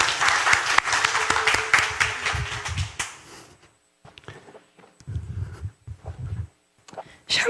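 A church congregation gives loud, dense applause for about three seconds. Scattered footsteps and quieter shuffling follow.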